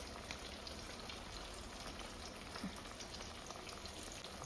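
Sauce bubbles in a pot on the stove, a faint, steady crackle and simmer that runs evenly throughout with no voices.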